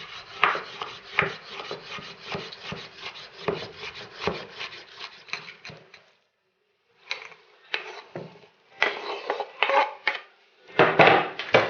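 A knife chops rapidly and steadily through firm red cabbage on a board, slicing it thinly, crisp repeated cuts with a short pause midway before chopping resumes.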